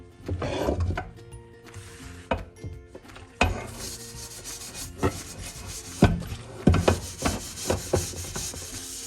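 A scouring pad scrubs a steel cooking pot in a kitchen, rough rubbing strokes repeating in uneven bursts with occasional sharp scrapes and knocks, close and fairly loud, with no voices.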